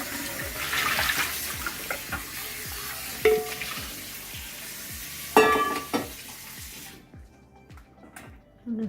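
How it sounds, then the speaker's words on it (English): Water runs and splashes in a pot being rinsed in a sink after draining cooked Sicilian snails, with steady running-water texture, a few clanks of the metal pot, then the flow stops near the end. "You're using the same pot, you're going to wash."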